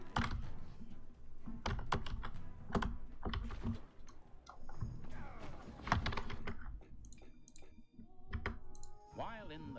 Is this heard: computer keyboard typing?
yes